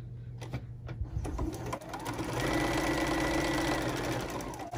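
A sewing machine stitches fabric for a reusable makeup remover pad, starting with a few separate clunks, then running into a fast, steady, close mechanical whir and rattle that holds to the end.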